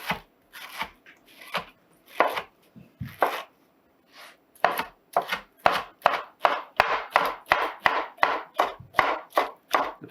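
A knife chops pineapple for salsa on a cutting board, with scattered cuts at first that settle into a fast, regular run of crisp, close chops.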